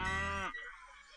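A cow gives a single loud, close moo that lasts about half a second and then stops abruptly, leaving faint quiet after it.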